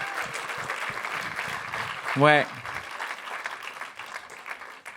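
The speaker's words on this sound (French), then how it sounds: "On peut l'applaudir encore." A congregation applauding, with steady moderate clapping throughout and a single voice briefly calling out over it partway through.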